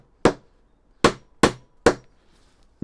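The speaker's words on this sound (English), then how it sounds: "hammer them in" Four sharp hammer blows drive nails into pallet wood while a rabbit hutch is being built, each one a loud ringing clang. The first strike stands alone, then three come in quicker succession, close up with no talking.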